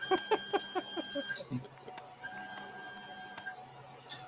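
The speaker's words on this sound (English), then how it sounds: "The beeping is probably my 3D printer, Kayan." A series of quick electronic beeps from a 3D printer, followed by a steady tone, with a voice talking faintly underneath.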